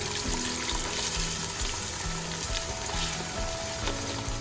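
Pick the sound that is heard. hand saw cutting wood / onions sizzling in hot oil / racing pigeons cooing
onions sizzling in hot oil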